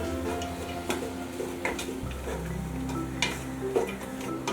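Vegetables sizzle and crackle as they stir-fry in a little oil in a pan, with scattered sharp clicks of a utensil stirring against metal, steady and close, with no voices.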